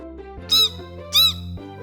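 Two short, loud crow caws about half a second apart, each a harsh squawk rising over steady background music.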